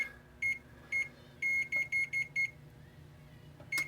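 An oven control panel beeps in short electronic tones while being set to preheat to 500 degrees, a few spaced singles then a quick run of beeps, fairly quiet with a low background hum.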